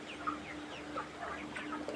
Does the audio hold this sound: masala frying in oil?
no